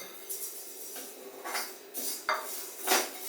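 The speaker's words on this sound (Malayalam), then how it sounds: "നമുക്ക് കടുക് ഇട്ട് കൊടുക്കാം." Mustard seeds drop into a hot kadai while pickle is being made, and a few light metallic clinks and scrapes sound close and fairly quiet.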